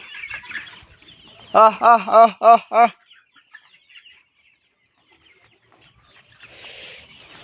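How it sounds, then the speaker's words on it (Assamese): Broiler chickens on a farm give a quick run of five loud, close clucks, with quieter barnyard ambience and faint bird sounds before and after. "এইটো ব্ৰইলাৰ চব গাইছ।"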